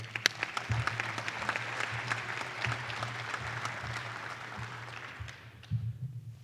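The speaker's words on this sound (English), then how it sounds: "give him a round of applause" A university audience applauds steadily at an athletics announcement, a sustained wash of clapping that holds for several seconds, then dips and surges briefly again near the end.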